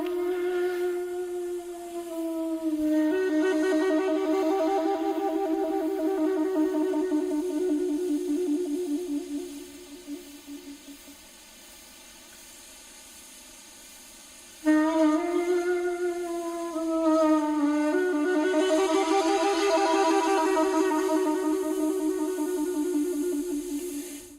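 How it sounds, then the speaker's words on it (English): A breathy shakuhachi bamboo flute plays long, slow notes that bend and slide between pitches, fading away, then rising again in a second phrase. "a sample of a shakuhachi flute."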